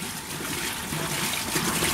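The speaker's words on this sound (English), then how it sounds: "So you're watching Dunes Water Wheel at the Aloha Resort" Water trickling and splashing from a resort water wheel at Lamai Beach, Koh Samui, Thailand, a close, steady, fairly loud wash of running water with no voices.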